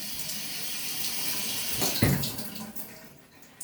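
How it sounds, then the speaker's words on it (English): Water runs steadily from a household tap into a sink, a continuous close hiss with a brief splashy swell midway. "we're leaving the water running"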